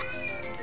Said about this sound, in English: Meow! You want some chicken, kitty?